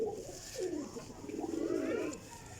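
Purebred pigeons of an old breeding line coo nearby in soft, rolling, throaty calls that swell and fade, one overlapping another.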